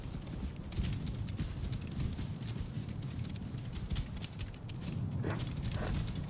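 Horse hooves clip-clop steadily as a rider gallops in Assassin's Creed Origins, a fast continuous rhythm of hoofbeats over sandy ground with wind and game ambience, no talking.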